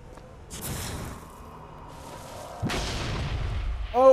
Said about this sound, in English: Oh, it does work on fireworks.